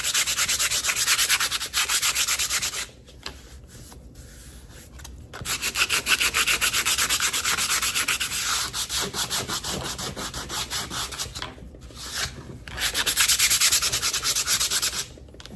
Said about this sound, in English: I'm going to do a flat sand over it, kind of get it all evened out